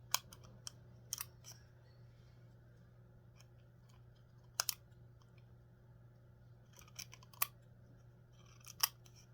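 Scissors trim with a scattered series of sharp, close snips and clicks against a quiet background hum, with pauses between the cuts.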